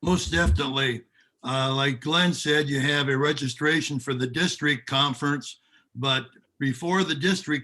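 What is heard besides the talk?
None of the usual background noises is heard.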